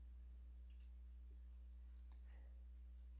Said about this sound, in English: so I'm going to click Save